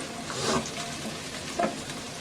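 Chopped garlic and ginger fry in hot oil for chicken sizzling, giving a steady, close, moderately loud crackling sizzle with a couple of brief louder spits and stirring bumps.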